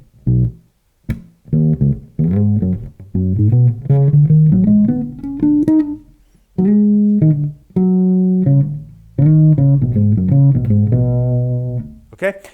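Bass guitar playing the two opening sections of a unison line back to back: a clear, close, solo run of short punchy notes with brief gaps, played alone without talk.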